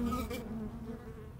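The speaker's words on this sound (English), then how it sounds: "Beating our wings, we cool or warm our home." Honey bees beat their wings in a steady, close buzzing drone that holds for the whole moment, with no voices over it.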